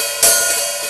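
Open hi-hat cymbal hit once with the pedal up, a bright, loud wash that sizzles and decays slowly across the rest of the moment, with no other sound.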